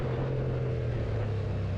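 A Kawasaki Z650 motorcycle engine drones steadily while riding, a constant low hum with wind noise and no talking.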